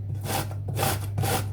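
A courgette is rubbed against a grater in three steady, rhythmic rasping strokes, close and fairly loud with no talk.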